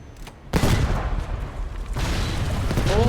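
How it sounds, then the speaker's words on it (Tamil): A Battlefield 5 explosion sets off a loud burst of booming gunfire-like blasts, sustained and close, rumbling on for about two and a half seconds after a brief quieter lead-in. "இதே வெடிக்க வச்சிடலாம் இருங்க"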